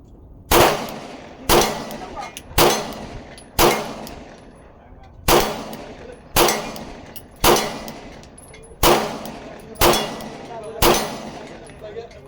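Ten sharp, loud shots from a Glock 19X pistol fitted with a red dot sight, fired at a steady pace about one per second, each with a short ringing decay outdoors, with no talking.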